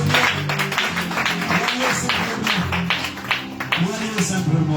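A church congregation applauding, rhythmic clapping mixed with voices and talk throughout.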